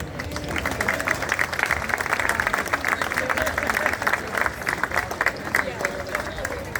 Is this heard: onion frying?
no